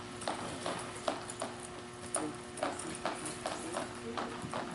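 A horse's hooves clip-clop steadily on the ground of a round pen, a regular near rhythm of soft thuds under a constant background hum, with people talking over it.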